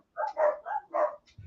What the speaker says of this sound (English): The dogs are going bonkers.